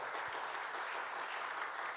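A church congregation applauds during a Sunday worship service, a steady, even wash of clapping from a crowd that holds constant for the full two seconds at moderate, slightly distant level.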